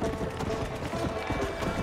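A horse gallops at racing pace in Red Dead Redemption, steady rhythmic hoofbeats drumming close and continuous beneath ambient game sound.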